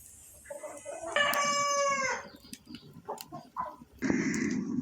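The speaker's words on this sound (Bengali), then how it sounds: "এই যে মুরগিগুলো আবার বের হয়েছে।" In a rural village yard, a rooster crows loudly and close by, followed by chickens clucking, then another crow at the end.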